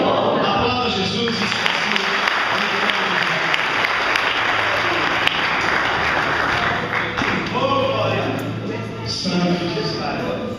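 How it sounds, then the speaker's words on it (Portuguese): A church congress crowd applauds in worship, a dense, sustained roar of clapping from many people filling the hall, steady and loud throughout, with some voices and music faintly beneath. "Aplauda Jesus."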